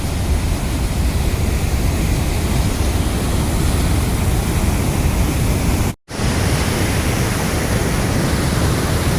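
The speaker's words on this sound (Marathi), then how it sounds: "वाटेल असा मोठा धबधबा इथे तयार झालेला आहे." A large waterfall pours on the flooded Mhalungi river, with a dense, unbroken roar of heavy water filling the whole span, loud and close, cut by one momentary gap.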